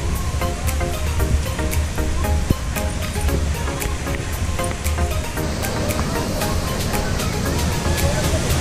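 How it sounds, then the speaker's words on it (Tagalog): A waterfall at Secret Falls gives a loud, continuous rushing roar of falling water close by, steady throughout with a few faint clicks, no talking. "Lapit na tayo sa Secret Falls."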